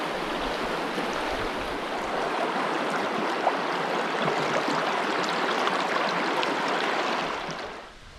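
Steady rushing water from the Sturgeon River at night in Michigan's Upper Peninsula fills the scene, a constant broadband wash that fades away at the end.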